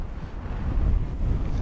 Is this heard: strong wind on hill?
yes